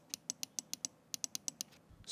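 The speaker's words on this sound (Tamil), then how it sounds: "ஸ்க்ரோல் வீலை ப்ரெஸ் பண்ணக்கூடிய பட்டனுடைய சவுண்டும் பார்த்தீங்கன்னா மினிமலாக தான் இருக்குது." The scroll wheel button of an Asus WT300 wireless optical mouse is pressed repeatedly, giving two runs of crisp, quiet, closely miked clicks at a steady rhythm with a short pause between them.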